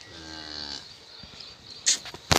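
A Jersey cow gives one close, drawn-out moo lasting under a second, followed by a few soft knocks and a sharper clatter near the end.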